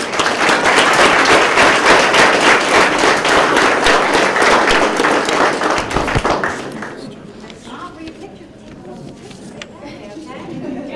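Audience applause at a police swearing-in ceremony, loud close clapping for about six seconds that fades into chatter and voices talking over a quieter room.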